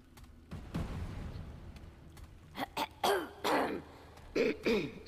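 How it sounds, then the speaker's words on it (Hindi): A character in the video game Remnant: From the Ashes coughs and clears its throat in a run of raspy, close bursts that grow stronger toward the end, over a low rumbling game background with no talk. "सेक्सी को तो कुत्ता खासी हो गई दिखती है"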